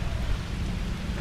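Steady rain with gusting wind outdoors, a dense, even hiss filling the whole moment with low rumbling wind noise underneath and no voices.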